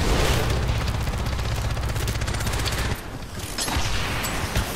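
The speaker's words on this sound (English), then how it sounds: "Nate, I'm gonna fire in there once you move" Rapid, dense gunfire from a video game firefight, a loud continuous barrage of shots and booms that eases briefly near the end before picking back up.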